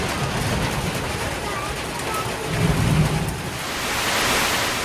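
Steady heavy rain roars as dense broadband noise, with low rumbles swelling midway; a faint voice may be buried underneath.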